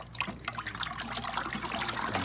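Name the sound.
stirring watery ceramic glaze in a bucket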